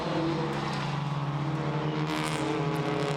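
TCR touring race car at the Sachsenring circuit in Germany, its engine droning loud and steady as it runs past, a continuous racing roar with no voices over it.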